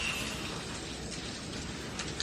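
Steady rain falling in a city street during heavy traffic, a dense even hiss of drops with no breaks, fairly quiet and continuous throughout.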